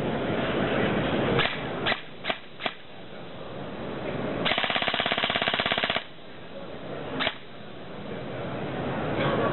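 An airsoft M4 SOPMOD rifle powered by a LiPo battery fires a rapid full-auto burst of about a second and a half, preceded and followed by several sharp single shots.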